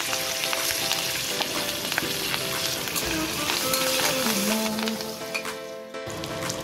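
Green chillies and curry leaves frying in hot oil with garam masala for a prawns and potato curry, a close, continuous sizzling crackle with a brief scraping tone near the middle and a softer stretch toward the end, no speech.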